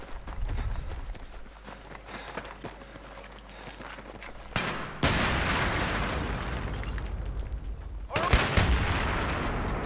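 Gunfire from the video game Battlefield 3, with rapid bursts of shots in a busy battle mix that turns louder and denser partway through, over constant background noise.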